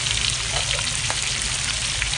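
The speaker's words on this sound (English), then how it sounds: "Then put in your onion. And then garlic, lemongrass and chili padi." Onion, garlic, lemongrass and chili padi sizzle hard in hot oil in a pan, a loud, steady, dense hiss close up with faint stirring clicks and no voices.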